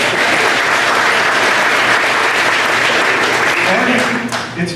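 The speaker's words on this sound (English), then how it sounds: "You can definitely applaud that." A large indoor audience applauds steadily and loudly for several seconds, dense continuous clapping that begins to thin out and fade near the end as a voice starts to come through.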